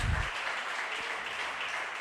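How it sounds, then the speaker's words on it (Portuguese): Church congregation applauding during a worship service, a brief diffuse patter of clapping that rings through the hall, with a low thump at the very start. "aplauda ele mais uma vez"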